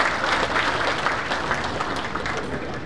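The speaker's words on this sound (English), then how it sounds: "give them a big round of applause." An audience at the Startup20 Sikkim Sabha inauguration session at Chintan Bhawan claps together in a loud, continuous burst of applause, with no voices over it.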